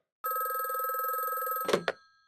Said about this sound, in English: Phone ring at the sheriff's office.